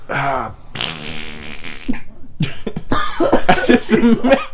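Rasping fart noises burst out in a podcast studio, mixed with coughing and throat clearing. The sounds come loud and close in several short, uneven blasts, and voices can be heard around them.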